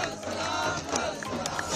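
Students on a university campus cheer and shout together after an election win, a dense, continuous roar of crowd voices heard close and loud throughout.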